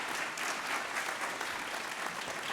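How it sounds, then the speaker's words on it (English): Audience applause at a youth recognition awards ceremony, a dense, steady clapping from a crowd filling the whole short stretch with no talk. "let's give our West Bloomfield Youth Assistance a round of applause"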